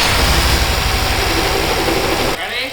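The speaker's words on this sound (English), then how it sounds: "Let's fire this thing up, and we should hear these turbos spool up." A 600 hp turbocharged BMW engine roars loudly and steadily close by, a dense rumbling drone that drops off abruptly near the end, leaving a quieter tail with a voice faintly audible.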